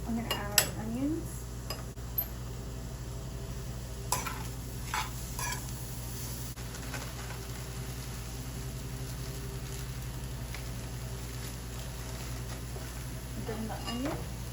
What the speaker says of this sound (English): I'm gonna add mushrooms. I'm gonna add onions.